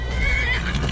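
A horse in the video game Skyrim neighs once, a loud, close, wavering whinny over a steady low background rumble.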